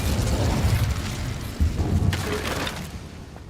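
An Incendio fire spell cast in a wizarding video game, a dense roaring whoosh of flame with low rumble that runs the whole time and swells slightly midway before fading.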